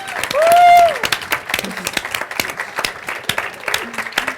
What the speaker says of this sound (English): stand up so we can give you a round of applause.